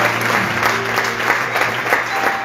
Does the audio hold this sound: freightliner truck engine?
no